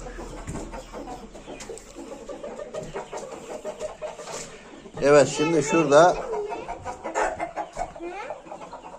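Roosters clucking and calling on a farm, with a loud burst of bird calls partway through, amid ongoing nearby talk in Turkish.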